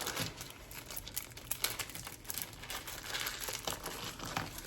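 Plastic wrapping on a board game box and card packs crinkles and crackles continuously up close, a dense steady rustle with sharper snaps scattered throughout, no talking.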